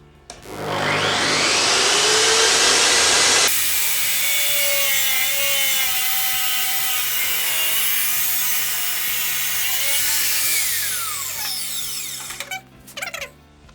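A Metabo CS 24-355 metal cut-off saw shrieks steadily through metal for several seconds, its pitch sliding as the blade bites, then winds down with a few rattling clatters.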